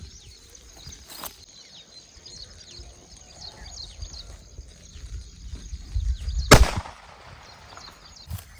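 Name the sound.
second blast of six-inch Lakshmi firecracker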